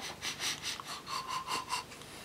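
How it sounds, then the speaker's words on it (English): A series of short, quick sniffs close to the nose, around eight soft rhythmic inhalations while smelling a 7% beer, quiet and alone. "if you're doing short, doggy type sniffs"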